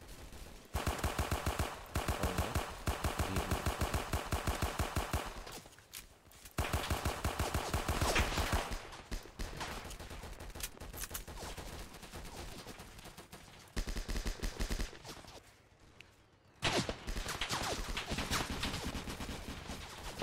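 Rapid automatic gunfire rattles almost without pause in a Roblox D-Day battle game, dense and loud bursts broken by a few brief gaps, with no talking.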